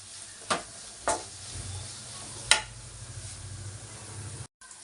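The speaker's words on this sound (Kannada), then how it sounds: "ಇವಾಗ ನಾನು ದಪ್ಪ ಮೆಣಸಿನ್ಕಾಯಿ ಹಾಕೋತಾ ಇದ್ದೀನಿ, ಆಮೇಲೆ ಬೆಳ್ಳುಳ್ಳಿ. ಇದು ಅಷ್ಟೇ ಚೆನ್ನಾಗಿ ಫ್ರೈ ಆಗಬೇಕು." Capsicum and garlic frying in a pan for paneer masala curry, a steady sizzle with three sharp utensil taps against the pan, ending in a sudden short silence.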